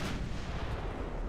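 Naval guns fire in an Ultimate Admiral Dreadnought battle, heard as one dense, heavy low rumble of artillery that holds loud and steady through the whole short moment.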